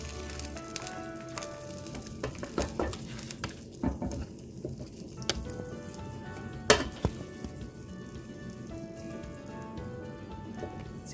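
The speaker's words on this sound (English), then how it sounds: "Stir in some cilantro, chopped cilantro leaves just before serving." Chopped cilantro is stirred into a garlic pepper chicken ghee roast in a hot pan, producing a soft, steady sizzle with scattered spoon clinks and scrapes against the pan, close and without talk.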